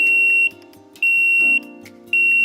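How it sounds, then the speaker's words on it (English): Leak alarm in an underwater camera housing beeping loudly in a steady pattern of sustained high-pitched tones, about half a second each with short gaps between them, heard alone and clear. "the leak alarm system, sets off when your housing starts to leak"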